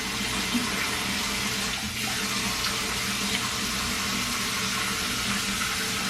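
Warm tap water runs steadily into a sink, a constant close splashing rush with no pauses and no voices.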